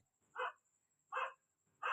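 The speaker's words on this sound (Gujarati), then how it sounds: "કૂતરા ભૂંએ હું હું કરે" A dog barks three times at a steady interval, short separate yelps heard at moderate distance in an otherwise quiet home setting.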